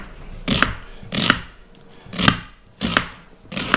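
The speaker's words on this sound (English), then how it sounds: "we're just chopping the onions kind of fine" Five sharp knife chops through onions land on a cutting board at a steady, unhurried pace, each a crisp thud with a brief woody crack, close by.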